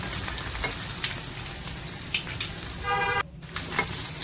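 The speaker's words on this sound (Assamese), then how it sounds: "এতিয়া এই বইল কণীকেইটা মই আকৌ তেল অকণমান দি তাতে ভাজি লৈছোঁ" Boiled eggs fry in a little oil in a pan with turmeric and chili powder, giving a steady close sizzle with occasional crackles and a brief scrape near the end.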